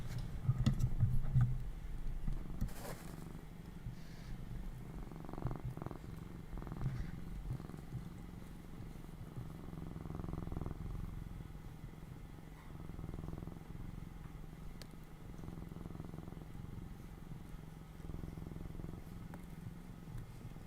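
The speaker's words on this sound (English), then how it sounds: "Did you hear his purring?" A contented cat purrs steadily and softly right against the microphone, a low continuous rumble lasting the whole stretch with no voices over it.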